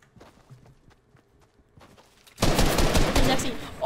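Shotgun fire in Fortnite follows a few quiet taps and steps, then erupts into a loud, dense burst of gunfire that runs to the end.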